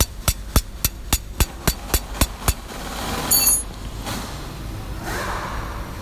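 Sharp hammer taps on the transmission selector lock of a Toyota Avanza during a seal replacement, about nine evenly spaced metallic strikes in quick succession, close and loud, then a short clink and quiet workshop noise.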